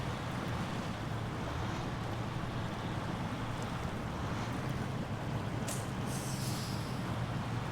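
A truck floats across a river in the SnowRunner game, with a steady, faint wash of rushing water and wind-like noise running throughout, plus a brief splashy hiss near the end.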